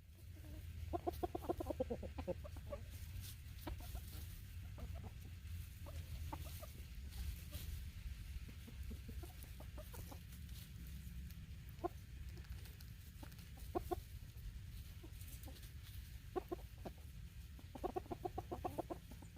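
Chickens cluck and murmur at close range in scattered bursts, with scratching and pecking sounds and low background noise throughout.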